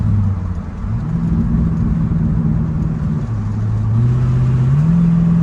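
A 1970 Pontiac LeMans engine drones and revs while driving, the pitch stepping up and down through gear changes, loud and close with a steady low rumble throughout.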